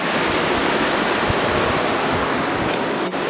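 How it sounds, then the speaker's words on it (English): Spring-fed river water in Old Manali rushing steadily, a dense, loud, continuous wash of flowing water close by with no other sounds. "this is where I get all my water, straight from this river, spring water."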